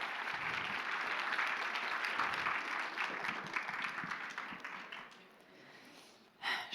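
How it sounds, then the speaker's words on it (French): An audience at a cosplay performance contest applauds in a steady wash of clapping that tapers off toward the end, followed by a brief, louder burst. "On peut encore l'applaudir bien bien fort."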